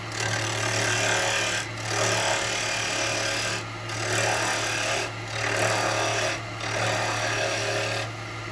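A tenon being cut on wet eucalyptus spinning on a wood lathe: a continuous gritty scraping and rasping of the gouge against the green wood over a steady motor hum, broken by four short pauses as the tool is lifted away.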